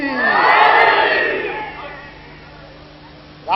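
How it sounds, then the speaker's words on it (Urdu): A large crowd at a Shia majlis gathering roars a religious slogan in reply, a loud massed shout that swells, holds and then fades into hall ambience. "نعرہ اتنا بڑا لگاؤ جتنا علی بلند ذہنوں میں ہو سکتا ہے"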